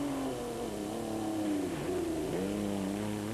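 A Mitsubishi rally car at the 1999 Dakar Rally speeds away, its engine droning steadily loud with rising and dipping revs across several seconds, close and continuous with no voices over it.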